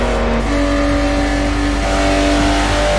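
Loud, close engine note of a Jaguar XJ220 on a speedway in Forza Motorsport 4, revving hard with a gear change early on and then a sustained, steadily rising pull.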